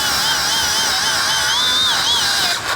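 A Dongcheng angle grinder whines loudly and steadily through a cut, its pitch wavering and sagging under load, then dropping off sharply near the end as it stalls.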